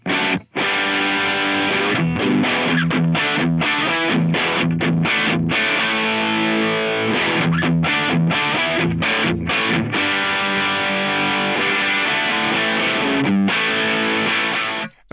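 A Les Paul electric guitar, heavily distorted and played loud through a Boss WTAE loadbox with low and high cuts, chugs out driving riffs with sharp stops and restarts across a steady sustained crunch.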